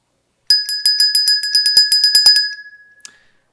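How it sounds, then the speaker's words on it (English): A handheld bell rung at a summer school session to mark a two-minute point, struck about a dozen times in quick, even succession, loud and close, then left ringing out to silence. "You're going to hear that bell a lot over the course of the next few days"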